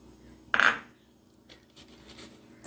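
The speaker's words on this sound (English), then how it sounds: "kita masukkan telur" A single sharp clink of an egg tapped against the rim of a bowl of sweet potato fritter batter, close and crisp, followed by faint soft handling sounds in a quiet kitchen.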